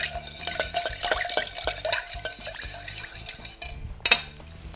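A bourbon cocktail is stirred with ice, a rapid, rhythmic run of light clinks and liquid swirls at close range, ending with one sharper knock of ice against glass.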